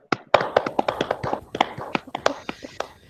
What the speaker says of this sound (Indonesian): Kita beri aplaus buat kelompoknya Hatimah.